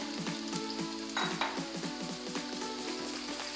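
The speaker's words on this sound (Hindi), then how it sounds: "देखें इस तरीके से हम अब इसमें अरबियाँ डाल देंगे।" Taro root pieces sizzle steadily in hot oil in a pan, with repeated stirring scrapes and light utensil clinks close by.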